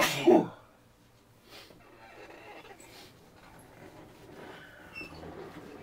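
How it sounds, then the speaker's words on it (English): One loud, abrupt human sneeze bursts out close up at the very start, followed by quiet room noise and faint handling sounds. "I got a sneeze."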